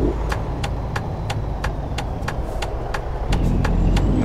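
A truck in American Truck Simulator pulling away in third gear: a steady low engine drone with regular rhythmic ticking, close and fairly loud, swelling slightly toward the end, with no voices.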